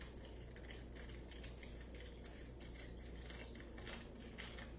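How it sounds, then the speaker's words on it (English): Scissors trim long sheets for Spam musubi. Faint, soft snips and rubbing cuts come over a low background hum, quiet and close, with no talk. "For these particular sheets, they're a bit long, so I have to go ahead and trim some off."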